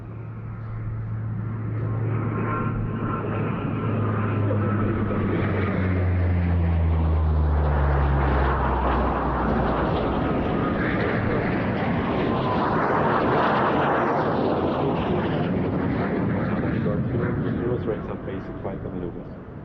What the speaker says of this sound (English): So also both Eurofighters has to reduce their speed, and you can see it, the alpha is increasing